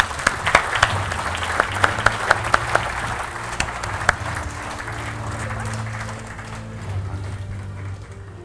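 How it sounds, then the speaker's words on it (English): An audience applauds a podcast guest in a studio setting, with sustained clapping throughout and scattered louder individual claps standing out near the start, while a low background hum runs underneath. "Can I give a round of applause?"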